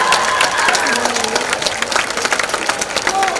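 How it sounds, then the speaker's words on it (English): A school event audience applauds steadily and loudly at a trophy ceremony, dense clapping with some cheering mixed in, continuing throughout without a break. "We can clap a little louder."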